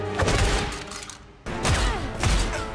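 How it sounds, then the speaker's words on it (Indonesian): Film shootout gunfire in two dense volleys of rapid shots with booming low thuds, loud and close, separated by a brief lull. "Saat Bender adu pelor dengan Joey, tak sengaja menembak CS-nya sendiri."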